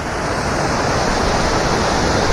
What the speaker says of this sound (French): Regardez bien, la petite cascade.